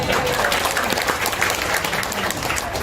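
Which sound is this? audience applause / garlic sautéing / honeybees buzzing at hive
audience applause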